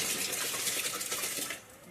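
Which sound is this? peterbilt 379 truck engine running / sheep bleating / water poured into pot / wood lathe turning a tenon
water poured into pot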